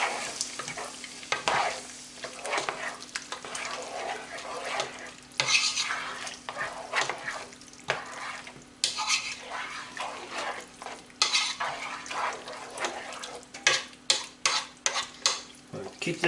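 Diced canned tomatoes with green chilies being stirred into softened vegetables in a pot for alligator étouffée, with a steady sizzle under repeated scraping and clinking of a spoon against the pan.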